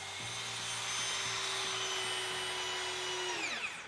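A power drill drives heavy-duty log home screw fasteners into stacked logs during log home construction, giving a steady, close whine that runs and then spins down at the end, with no voices.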